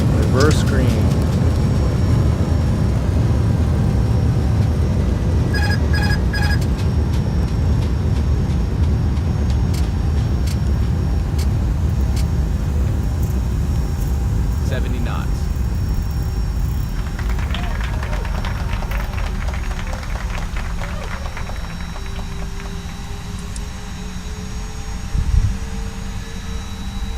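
Simulated Airbus A320 jet engines roaring in reverse thrust during the landing rollout, a loud sustained broadband rumble that slowly eases as the aircraft decelerates, with cockpit callouts spoken over it.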